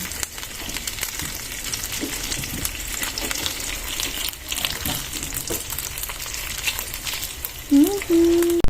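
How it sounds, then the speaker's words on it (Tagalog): Sunny side up egg frying in oil in a pan, a continuous close crackling sizzle that holds steady throughout, with a brief tonal clatter near the end. "magluluto tayo ng egg. Sunny side up na egg."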